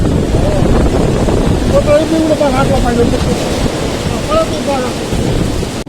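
Strong cyclone wind roars loud and unbroken against the microphone during a storm that is tearing off metal roof sheets, with voices calling faintly beneath the gusts.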